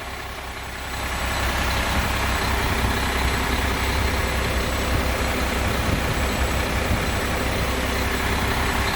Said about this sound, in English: The motor sounds great.